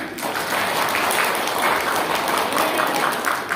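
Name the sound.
audience applauding for Pak Darno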